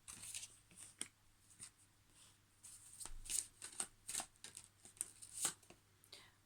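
Tarot cards are shuffled in soft, irregular riffling and slapping bursts, close but faint, with brief pauses between handfuls.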